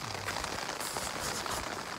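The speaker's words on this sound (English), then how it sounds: "More rain." Rain falls at a backcountry lake campsite in Woodland Caribou Provincial Park, a dense, close, steady patter of drops on a surface with no voices.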